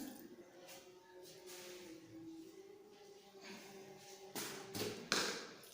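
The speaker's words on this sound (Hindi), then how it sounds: "अब यहाँ पर इसमें थोड़ा सा डालेंगे पानी" Water poured from a vessel onto three cleaned oranges in a container while orange juice is made, a soft trickling splash that ends in a few louder sloshes and thuds near the close.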